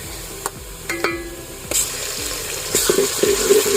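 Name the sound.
frying garlic ginger paste in pan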